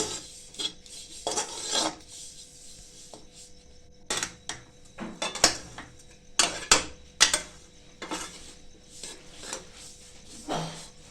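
Sesame seeds stirred in a pan for laddu, giving repeated dry scraping and rasping strokes of a spoon against the pan in irregular bursts, close and fairly quiet, with no voices.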